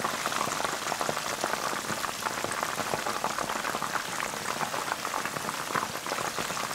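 Steady dense sizzling and crackling of chicken wings deep frying in plenty of hot oil, continuous and close, with no voices.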